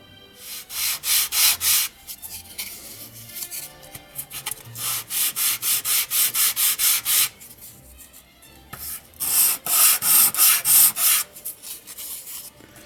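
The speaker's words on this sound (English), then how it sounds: "I'm going to do a little sanding on the edges" Close, rhythmic rasping of sandpaper rubbed back and forth on the wooden edges of a 1:12 scale dollhouse bookcase, in bursts of quick strokes with brief pauses between runs; no talking.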